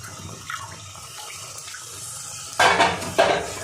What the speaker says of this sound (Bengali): এবার গ্রেভির জন্য আমি জল দিয়ে দেবো